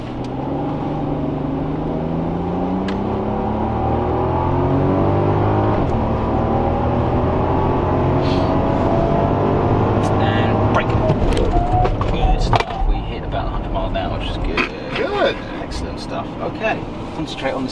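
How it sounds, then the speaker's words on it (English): A Rolls Royce Cullinan SUV accelerating hard on a racetrack, its engine note climbing steadily and loud, passing by with wind and track noise toward the end. "here is a Culinan flooring it by. It is a Rolls Royce SUV on a racetrack."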